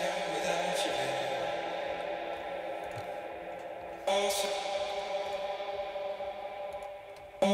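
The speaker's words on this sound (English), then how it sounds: "bounce it with an ocean of reverb to have that background atmosphere" A vocal processed in Cubase with heavy reverb swells into a washy, echoing atmosphere, with sustained tones trailing off in long tails and a fresh onset partway through.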